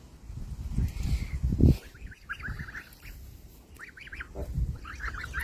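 Adult domestic geese honk in short nasal bursts at close range in a farmyard, several calls in two clusters amid scuffling and low thuds.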